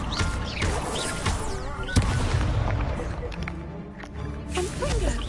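Incendio fire spells are cast in Hogwarts Legacy, bursting with sharp whooshing blasts and crackling booms amid combat sound effects, with a person talking and shouting over the action.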